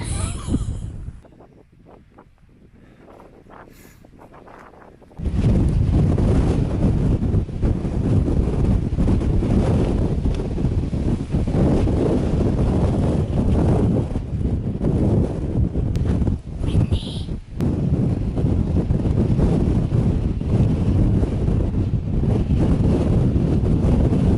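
Strong wind on the Kinder Plateau along the Pennine Way roars across the microphone, easing briefly at first, then gusting loud and constant for the rest.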